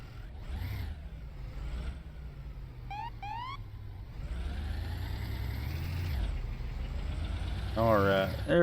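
Old truck engine in the firefighting game Into The Flames, a steady low rumble that grows louder toward the end, with brief chirping tones midway and a voice talking over it.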